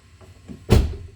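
A Kia Sorento car door is worked once: faint soft handling sounds, then one solid thud as it shuts, close and alone with no talking.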